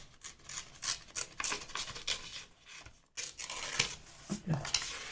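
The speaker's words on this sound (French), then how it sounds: "Ici, je vais déchirer." Paper being torn by hand for a vintage scrapbook tag, a rapid series of close, rough ripping and rustling bursts with a brief pause midway, under a voice speaking at times.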